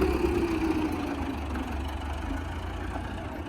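A motorcycle engine idles nearby with a low, steady rumble that holds even and unbroken, with no voices.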